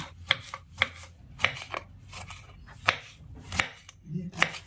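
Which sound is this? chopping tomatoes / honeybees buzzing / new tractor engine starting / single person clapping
chopping tomatoes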